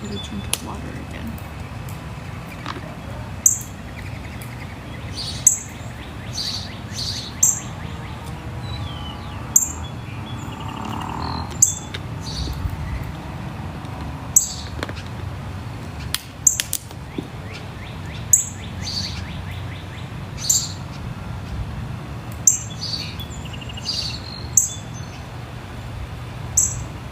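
Outdoors, several birds give scattered, sharp chirps every few seconds over a steady low ambient rumble, some near and some farther off.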